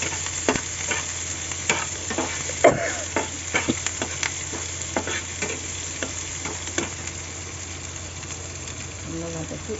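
Chopped onion, green chilli and curry leaves sautéing in a pan for a black-eyed bean stir-fry, with scattered scraping stirs and soft clicks over a steady low frying hiss, fairly close.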